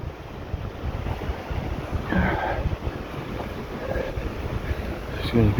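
A river or burn flowing beside a rough footpath in Weardale: a steady, broad rush of water that fills the whole clip, with wind buffeting the microphone and brief rustles of movement close by.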